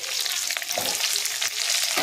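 Chopped onion hitting hot oil and frying in a pan while cooking chilli soya, a bright continuous sizzle with a few stirring scrapes, close and steady.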